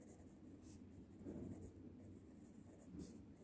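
Faint scratching of a pen or pencil writing numbers by hand during a place value lesson, soft strokes over a low background hum.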